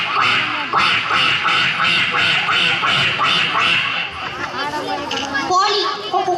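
A voice repeatedly imitates a duck's quack in rhythmic bursts, loud and close, with Tamil speech-like chatter mixed in, at a school annual day.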